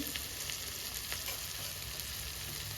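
Tomatoes fry in a pan with salt and turmeric for a pumpkin curry, giving a steady, dense close sizzle that runs unbroken through the short stretch with no voices.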